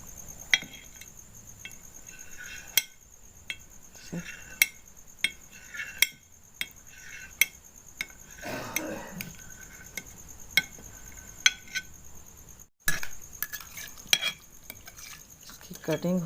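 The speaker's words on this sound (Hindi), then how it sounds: "अब इसको मैं क्यूब्स की शक्ल में काट लूँगी।" A knife cuts set jelly into cubes on a board, giving a series of sharp taps and soft clicks spaced a second or so apart, fairly faint and close, with a steady high hiss behind.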